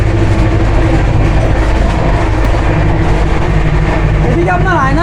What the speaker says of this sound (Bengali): আমাদের ট্রেন এই মুহূর্তে ক্রস করছে আপনার ডানকুনি জংশন, আর ডানকুনি জংশন ঢোকার সঙ্গে সঙ্গে কিন্তু গাড়ির স্পিড কিন্তু অলরেডি বেড়ে গেছে।